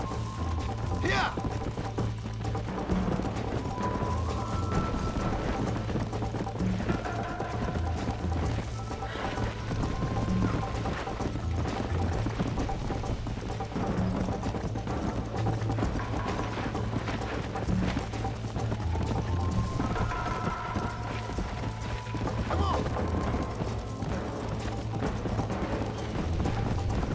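Horse hooves clip-clop in Red Dead Redemption, a steady uneven patter over a constant low game drone, with an occasional whinny and faint mechanical clicks mixed in.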